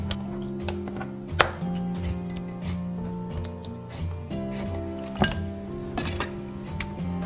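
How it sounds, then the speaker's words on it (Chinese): A knife scores chicken wings on a cutting board, making several sharp chops and clinks over a steady background hum. "然后在鸡翅上面切点花刀"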